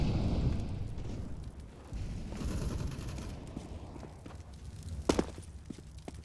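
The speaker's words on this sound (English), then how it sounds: "This grenade, man." A grenade goes off in Counter-Strike: Global Offensive: a rumbling, broadband blast with a sharp, loud burst near the end, set against continuous in-game noise.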